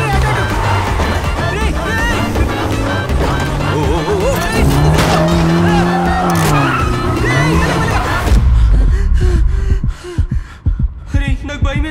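In a movie scene, a car speeds along with rising, squealing tires, then slams into a statue with a deep, heavy thud, all over background music and voices.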